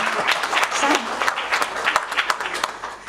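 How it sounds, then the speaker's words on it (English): An audience applauds steadily at a results announcement for a vote, many hands clapping in a dense, continuous wash that holds at an even level throughout. "Round of applause."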